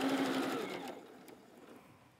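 Sewing machine stitching a kitchen mini mitt, a steady whirring run that slows and stops within the first second, then quiet handling noise, close by.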